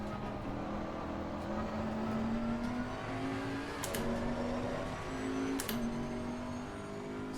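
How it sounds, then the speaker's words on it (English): In the Assetto Corsa Competizione racing game, a Bentley GT3's V8 engine drones loudly and steadily, its pitch climbing slowly through long pulls, with brief sharp clicks from gear changes cutting in. "The sound of that nice V8."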